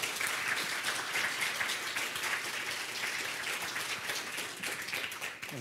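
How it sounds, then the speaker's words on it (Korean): Audience applause at a university ceremony launching a glocal university initiative, a dense, steady wash of clapping from a sizable crowd, sustained and evenly loud throughout. "우리 전체 우리 구성원들 박수 부탁드립니다."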